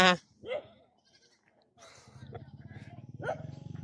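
A goat bleats a couple of times nearby in a remote Laotian village, followed by a longer wavering bleat, with faint voices around it.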